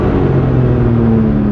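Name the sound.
car engine revving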